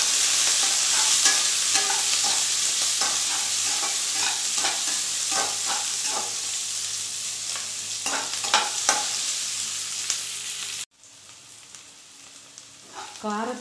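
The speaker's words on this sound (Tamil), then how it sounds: "சோம்பு பொரிஞ்சதுக்கப்புறம் கருவேப்பிலை, வெங்காயம், பச்சை மிளகாய் எல்லாம் போட்டுக்கோங்க. போட்டு வதக்கிட்டுக்கோங்க." Curry leaves, onion and green chilies sautéing in hot oil for a homestyle chicken gravy: a loud, steady sizzle with repeated scraping stirs of a spatula in the pan, close and continuous before it abruptly drops quieter near the end.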